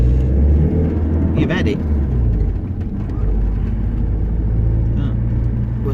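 A car drives through stop-start town traffic near traffic lights in Gravesend, its low engine rumble and road noise steady throughout while someone talks over it.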